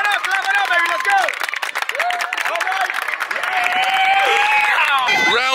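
Crowd clapping and cheering at a water polo match, a steady mass of applause with whoops and shouted voices throughout, growing louder and denser toward the end.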